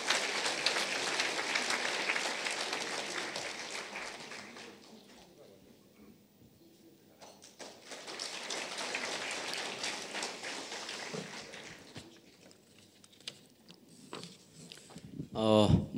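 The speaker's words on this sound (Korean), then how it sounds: "여러분 힘찬 박수로 맞아주십시오." Applause from an audience at a ceremony marking the anniversary of the 10·4 inter-Korean summit declaration, welcoming a Democratic Party floor leader to the podium; dense, sustained clapping that fades, swells again, then tapers off.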